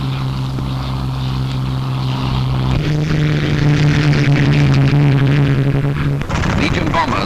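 Polish-flown Mustang fighter planes in flight in a June 1944 wartime newsreel, heard as a loud, steady, throbbing propeller drone that shifts in pitch midway and carries on under the newsreel soundtrack.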